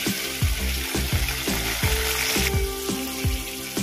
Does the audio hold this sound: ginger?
yes